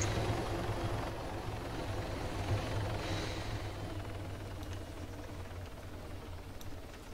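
A helicopter's rotor thrum in the video game Arma 3 Altis Life drones steadily at moderate distance, low and continuous, with no talking over it.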